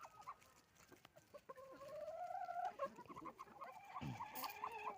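Hens cluck and croon nearby in a long warbling call followed by rhythmic short clucks, soft but clear.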